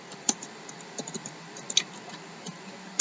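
Computer keyboard keys are tapped in an irregular sequence of soft, close clicks, with a few louder strokes among them, as code is entered.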